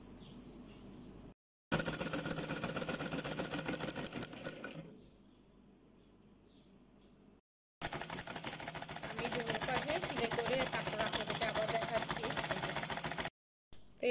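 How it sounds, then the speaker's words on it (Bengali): A sewing machine stitches the side seam of a small child's dress, running in two long loud bursts of rapid mechanical whirring with a quieter pause between them, while a voice talks over it. "এই যে আমি এই পাশটা সেলাই করে ফেলছি।"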